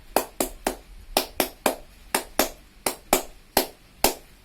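Scout pupils of an Islamic primary school perform the Tepuk HW clap: about thirteen crisp, loud, unison hand claps in a patterned rhythm of groups with short pauses, close and clear with no talking.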